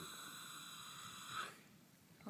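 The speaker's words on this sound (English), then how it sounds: "That's a real snoring horsey." A horse snoring while resting, a steady low rasping breath with a louder snort near the end, close by with no talk.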